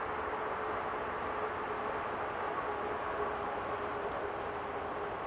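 A steady, low rumbling roar of a passing train fills the clip, continuous and fairly distant, heard from a night campsite in the woods, with no voices.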